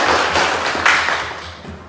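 An audience claps together in a class session, a dense, steady patter of many hands that holds for about two seconds and then thins out slightly, with no talking over it.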